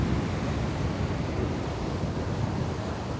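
Sea waves roll in at Progreso port in Mexico, a steady broad wash of surf with wind buffeting the microphone, continuous and loud with no voices.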